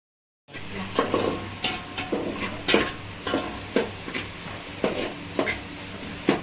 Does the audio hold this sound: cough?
no